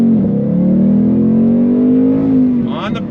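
A 2022 Ford Mustang GT with a manual gearbox launches from a dead stop, its engine note climbing loud and close before a gear change and a voice briefly talking at the end.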